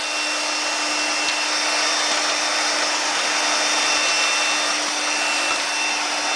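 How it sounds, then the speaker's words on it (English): A vacuum cleaner sucks dirt out of an air purifier, its loud, steady whooshing roar with a constant tonal hum running unbroken and close throughout. "this is where you take the vacuum and you just turn it on and you suck out the dirt"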